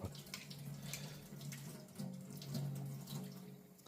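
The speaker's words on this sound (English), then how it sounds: "I'm also doing a few passes under, like I do now, just to rinse off any grit contamination from the previous step." A straight razor is rinsed under a running tap after honing on a 6K stone, a close, steady stream of water splashing over the blade with slight shifts as it passes in and out of the flow.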